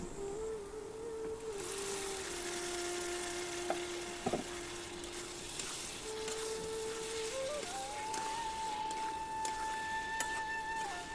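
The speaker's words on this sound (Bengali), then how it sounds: "দিয়ে তারপর এটা নাড়াচাড়া করে একটু কষিয়ে নিচ্ছি" Chopped onion and green chili fry in a pan for biryani, giving a steady soft sizzle with occasional scrapes and clicks of stirring, while tonal hums and whines run underneath.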